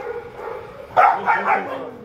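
A few sharp dog barks burst out in a quick cluster, louder than the muffled background noise before them.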